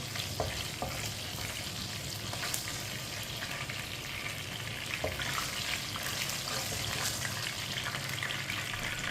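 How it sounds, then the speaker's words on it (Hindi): Half a cup of oil in a pan with whole cumin seeds roasting, giving a steady, dense sizzle and crackle throughout, close and fairly loud, with occasional stirring scrapes and no talk. "जीरे को 1 मिनट के लिए रोस्ट कर लेंगे।"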